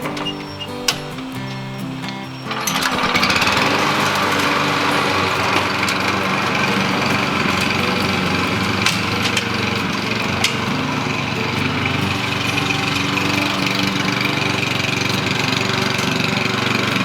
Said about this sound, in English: And we're going to go mow.